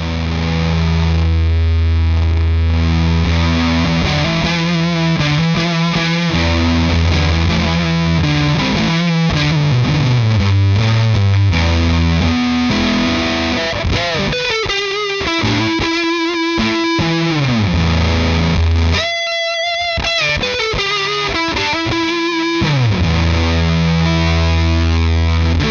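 Fender Stratocaster electric guitar played through a Redbeard Effects Honey Badger octave fuzz pedal, a loud, thick, distorted riff with sustained fuzzy notes, sliding lines and short choppy breaks.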